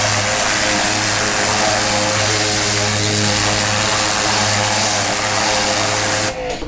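A Ryobi 2000 PSI brushless electric pressure washer runs steadily and loud up close, its constant motor hum and hissing spray continuing unbroken before cutting off abruptly at the end.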